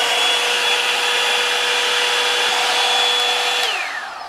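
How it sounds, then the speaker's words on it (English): A hot air brush hair dryer running at full setting gives a loud, steady whirring blow with a high whine, then winds down near the end as it is switched off. "Switch it on, you've got the medium and the full when you pull it towards the end, and it's actually quite loud, like a normal hair dryer."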